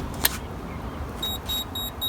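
A Sharper Image electronic key finder sounds inside a car, giving faint, high, thin beeps in a short repeating series over the car's background rumble, after one sharper click near the start.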